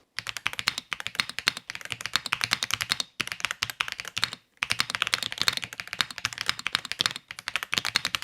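Rapid typing on a Redragon K768 Pro keyboard with linear switches, close and crisp, in steady bursts of quick keystrokes separated by a few brief pauses.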